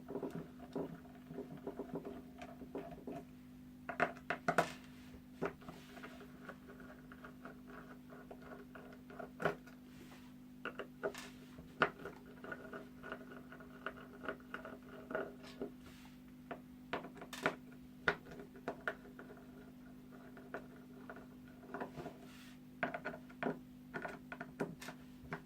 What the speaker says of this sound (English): So let's remove all of these little screws.